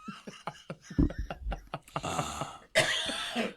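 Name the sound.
cough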